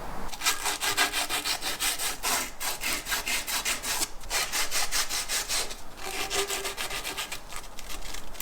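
Filing or rasping burrs off the freshly cut end of a tractor PTO shaft, a steady run of close, rhythmic scraping strokes that continues without pause and with no talking.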